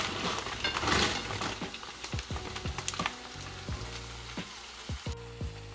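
A beef and vegetable filling sizzles in a frying pan with a continuous hiss, broken by a run of regular sharp scraping strokes as it is stirred.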